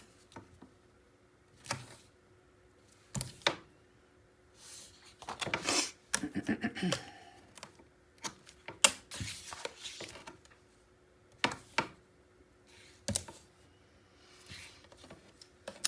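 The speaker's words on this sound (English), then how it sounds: "Let's get the tape out so we can tape this thing on." Adhesive tape pulled from a roll and pressed down while assembling a coral reef themed paper mini album, heard as a series of short, crisp rips and crackles separated by quiet pauses, close and fairly soft.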